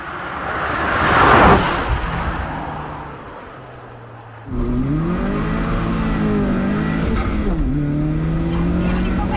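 Opel Speedster Turbo sports car heard from inside as it pulls away, its engine note rising through the revs, easing off, then climbing again steadily and loudly, with a brief voice early on.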